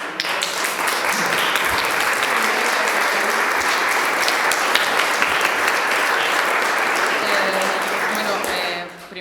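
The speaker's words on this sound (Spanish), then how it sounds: "Primero hay que aplaudir de verdad, Alejandro, porque ha sido una exposición ex" Sustained applause from a lecture audience at an autumn course conference, loud and steady for about nine seconds before tapering off at the end, with some voices mixed in.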